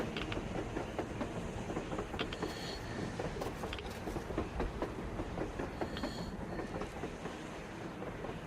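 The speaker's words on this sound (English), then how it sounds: "A damn train on the surface!" Train rolling on the surface in the video game Metro Exodus, a steady rumble with rhythmic clickety-clack of wheels over rail joints and brief metallic squeals, continuous and fairly loud throughout, with no talking.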